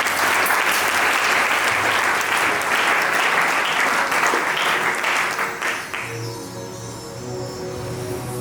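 A church congregation claps loudly in sustained applause for the Lord, then the clapping fades out after about six seconds as a musical tone rises beneath it.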